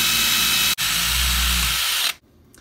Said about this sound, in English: start drilling that sucker